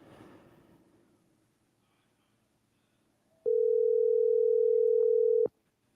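A steady telephone dial tone sounds for about two seconds while a call is being placed, clean and loud after a stretch of near silence and a faint voice at the start.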